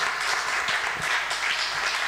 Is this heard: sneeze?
no